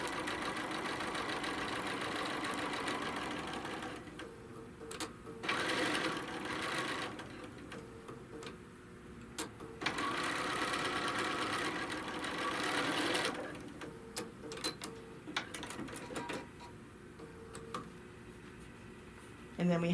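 A sewing machine stitches through a quilt in repeated runs of steady whirring, pausing briefly between bursts, close by and fairly loud.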